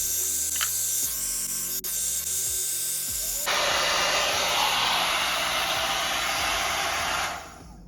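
A MiroPure 4-in-1 hair dryer brush runs close and loud on curly hair, a steady high whirring airflow that starts abruptly and holds evenly before cutting off near the end.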